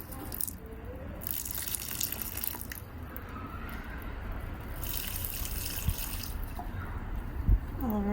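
Water pours steadily onto blooming pansies outdoors, a continuous soft splashing and trickling with faint drips, fairly quiet throughout.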